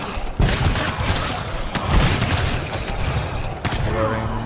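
Scatter gun blasts in a frantic shooter video game, several booming shots at irregular intervals amid dense, continuous battle noise and chatter, loud and close.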